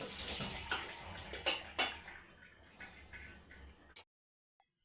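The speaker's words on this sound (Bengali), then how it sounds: "এবার জলটা ছেঁকে নিলাম।" Water from boiled jackfruit strains off in a kitchen, splashing and trickling with several sharp drips and knocks, then stopping abruptly into silence near the end.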